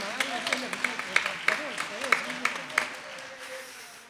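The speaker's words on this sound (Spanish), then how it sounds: "Pero denle un aplauso a mis piratas, no sean así." A handful of scattered audience claps at a televised music show, sparse and moderately loud, heard beneath someone talking.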